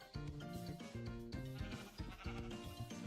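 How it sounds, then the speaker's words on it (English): Minecraft sheep bleating in a video game, a run of wavering, nasal baa calls repeated in quick succession, close and clear with no talking over them. "I love the Minecraft sheep noise."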